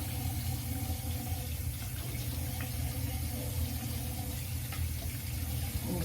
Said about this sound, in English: So, we'll do a little rinse.